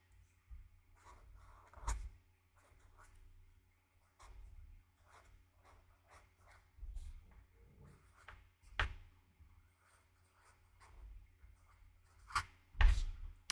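A pen writes on paper with faint, close scratches and strokes in short irregular bursts, broken by soft taps and pauses in a quiet room.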